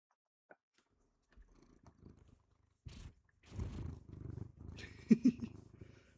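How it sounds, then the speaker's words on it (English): A pet cat named Asmodeus purrs and sniffs close by, with soft rumbling bursts and brief nasal snuffles separated by near silence, faint and intimate. "Just sniffing and purring."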